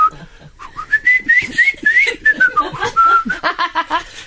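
A person whistles a long, rambling freestyle tune, close and clear, sliding up and down in quick wavering phrases with short breaks between them.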